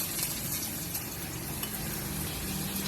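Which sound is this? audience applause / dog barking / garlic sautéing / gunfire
garlic sautéing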